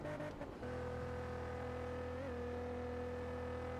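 A low-powered car engine drones steadily in Test Drive Unlimited 2, struggling uphill with a constant, even hum and a slight pitch wobble midway, after a brief rough burst at the start.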